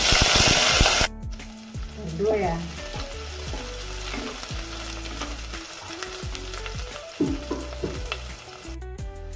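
Garlic, ginger and green chilies fry in coconut oil after mustard seeds for bitter gourd theeyal, giving a loud, dense sizzle and crackle up close. A brief blast of spitting opens it, and a voice speaks briefly over it.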